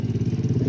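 A motorcycle engine close by, its rough pulsing low rumble throbbing in a quick steady rhythm at an outdoor school gathering.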